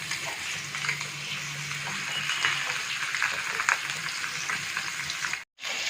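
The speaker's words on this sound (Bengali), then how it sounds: "তেল গরম হয়ে গেছে, এবার তেলে মাথাগুলো ভেজে নিতে হবে ভালো করে।" Fish heads sizzle steadily in hot oil in a pan for a Bengali muri ghonto, a dense, even crackle with a brief silent dropout near the end.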